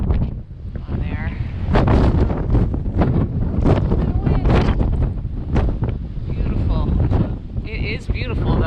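Strong wind buffets the microphone on a mountain summit in the Carter range, roaring loudly in uneven gusts throughout while a person talks underneath.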